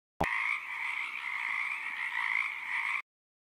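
A voice imitates a frog's croak, one sustained buzzy croaking call lasting about three seconds, clear and close, starting abruptly and then cutting off into silence.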